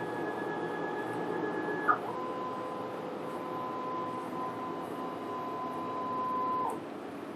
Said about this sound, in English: then we print the vertical calibration again to check